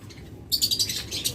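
Pet lovebirds, budgerigars and cockatiels at a bird seller give a quick burst of shrill, overlapping chirps and tweets close by, starting abruptly after a quiet half second.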